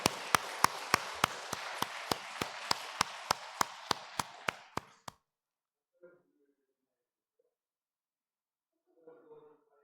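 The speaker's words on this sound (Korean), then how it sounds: "우리 뜨거운 박수로 환영하도록 하겠습니다." Claps ring out in a quick steady rhythm, about fifteen sharp, evenly spaced strikes, as a church congregation applauds to welcome a visiting guest, fading out into near silence with faint voices after.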